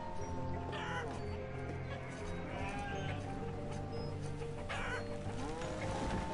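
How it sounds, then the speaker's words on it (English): Chickens in the city-building game Banished cluck and squawk repeatedly in a dense, noisy chorus among other farm animal calls, steady and loud throughout with no talking. "Damn chickens are noisy."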